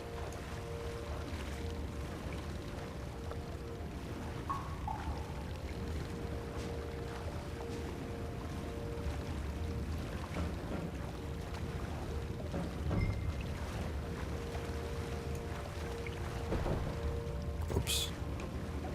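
A boat paddled through water in Red Dead Redemption II, soft rhythmic strokes and splashes under steady watery wash, fairly quiet throughout.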